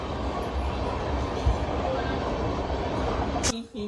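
Steady loud rumbling of a train passing close by, heard from a home bedroom, continuous rattle and roar that cuts off abruptly near the end.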